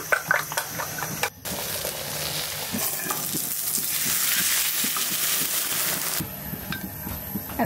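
Leftover cooked rice fries in a pan, giving a continuous loud sizzle broken by scraping stirs and light clinks, with a brief pause before the sizzling swells again.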